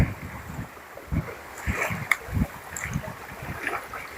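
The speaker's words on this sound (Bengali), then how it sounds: "এমনিতে নৌকা দোলা হচ্ছে খুব।" A fishing boat rocks on the water during a storm at night, with irregular low thumps and sloshes of waves against the hull under steady wind rush.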